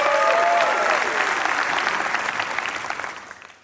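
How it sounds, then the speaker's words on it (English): Commencement audience at Webster University Tashkent's 2023 ceremony applauding, a full burst of dense clapping with a few whoops that holds steady and then tapers off at the end. "They are receiving more applause than I when I came."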